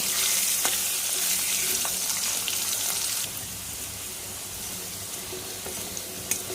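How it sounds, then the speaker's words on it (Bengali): Salted potatoes frying in hot oil in a kitchen pan, a dense, loud sizzle that settles to a slightly softer crackle partway through, with a few utensil clicks and no talking. "আলু লাল লাল করে ভাজা হয়ে গেছে, দেখো।"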